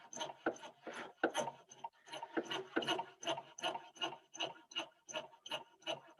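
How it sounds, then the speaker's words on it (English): A hand saw cuts cast acrylic in steady, evenly paced back-and-forth strokes, each stroke a gritty rasp, about a dozen in a row, fairly close and alone. "you can actually feel the cast acrylic as it starts to heat up and wants to grab a hold of your saw blade"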